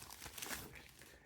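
Packaging for a quartz watch is cut and opened with scissors, giving a short burst of crinkling, rustling wrapper noise at close range with no talking.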